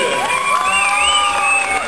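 An award ceremony audience at a Turkish sports club of the year presentation cheers and whoops loudly, with raised shouting voices sustained throughout the short burst.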